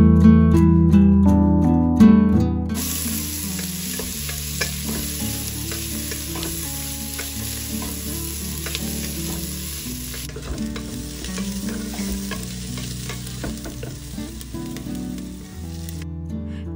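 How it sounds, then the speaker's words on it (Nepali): Sliced onion fries in hot oil with spices for a goat mutton curry, a steady close sizzle broken by repeated scraping and clinking of a spoon stirring the pan. "प्याजलाई अब चलाउँदा एकदमै राम्रोसँगले भुट्न पर्छ, जबसम्म यो गोल्डन ब्राउन हुँदैन तबसम्म।"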